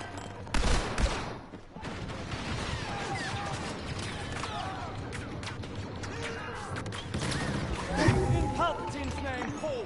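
Grenade explosion and gunfire in the Star Wars Battlefront 2 video game: a sharp blast early on, then continuous battle noise of scattered shots and blaster fire, with voices calling out over the combat.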